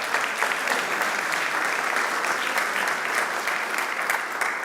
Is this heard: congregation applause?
yes